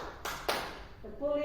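Two sharp hand claps ring out close together in a counted clapping exercise, followed by a voice speaking.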